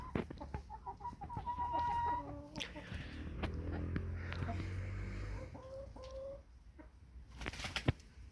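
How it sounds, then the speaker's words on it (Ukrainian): Chickens in a sunny farmyard cluck and call near and far, with short tonal clucks and a drawn-out call over a low background hum, sounding intermittently throughout. "Кури ще гуляють."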